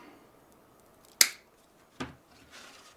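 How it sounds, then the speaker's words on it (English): Two sharp snips close by as diagonal cutters cut through a feather quill, about a second apart, the first crisp and loud, the second slightly duller, in an otherwise quiet room. "with a pair of dikes, you start the first cut through the quill"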